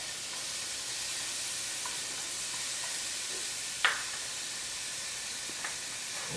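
Purple garlic sizzles in a pan with thin sliced onions, a faint steady hiss of frying interrupted by one brief clack of a utensil.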